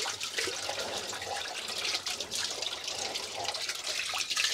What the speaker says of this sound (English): And get all the soap rinsed off.